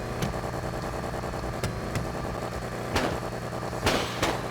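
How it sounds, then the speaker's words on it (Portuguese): Modded car turbo sound in GTA V: a steady engine drone with several sharp pops and whooshing bursts of blow-off, heard alone without talk. "novo som de turbo"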